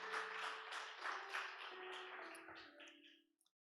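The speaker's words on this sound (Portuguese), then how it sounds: "Uma salva de palmas para Jesus." A church congregation applauds together, dense sustained clapping that fades out over a few seconds at the close of a worship service.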